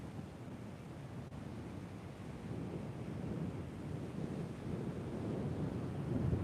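Breezy wind and surf on Sam Roi Yot beach in Thailand, a steady low rumble of waves under gusty wind buffeting the microphone, continuous and slowly swelling, with no voices.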